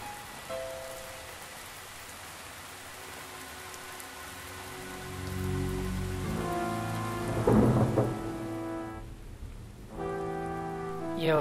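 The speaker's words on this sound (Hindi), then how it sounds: "अब अचानक भारी बरसात शुरू हो गई है।" Heavy rain pours steadily while a deep roll of thunder swells and rumbles through the middle, loud and close, with a soft tonal music bed faintly underneath.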